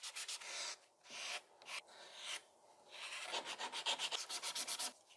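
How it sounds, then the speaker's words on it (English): Sandpaper rubs over a hand-carved wooden spoon in short, close, scratchy strokes, first in longer passes and then quicker rhythmic back-and-forth scrubbing, quiet and without talk. "now that I got it mostly sanded there"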